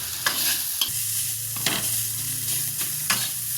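Salt, chili powder and turmeric powder are stirred in a sizzling pan, with a steady frying hiss and repeated sharp scraping strokes of the spoon at an even rhythm.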